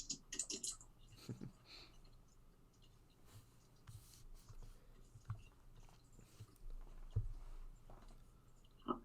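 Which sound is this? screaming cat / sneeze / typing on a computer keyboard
typing on a computer keyboard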